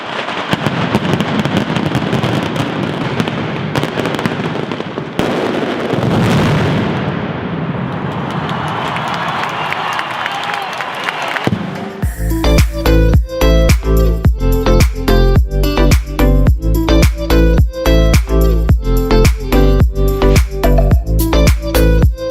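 A mascletà firecracker display in Valencia, with a rumbling crowd and scattered pops first, then a dense, relentless barrage of loud rapid-fire bangs pounding without pause for the final ten seconds.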